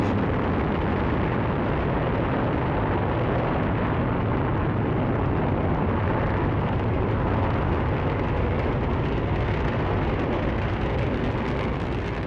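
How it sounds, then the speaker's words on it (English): Rocket launch carrying the Webb telescope with Vulcain engine ignition, a loud, dense, unbroken roar that holds steady throughout. "Allumage Vulcain. Allumage UAP. Décollage."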